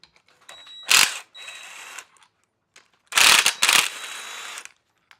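A hand ratchet works loose nuts and bolts, likely M8s, in a garden shed, giving two loud, close bursts of rapid clicking separated by a pause, with quieter ratcheting in between.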